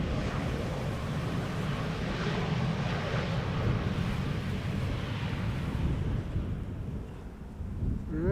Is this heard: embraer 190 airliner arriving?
yes